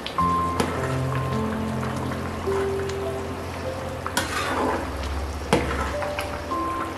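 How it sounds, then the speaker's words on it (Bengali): Khichuri cooking in a pot is stirred, giving soft scraping and clinking from the utensil over a low bubbling simmer, close by and with no talk. "এদিকে খিচুড়িটাও হচ্ছে, একটু ঢাকা নামিয়ে নাড়াচাড়া করে দিই।"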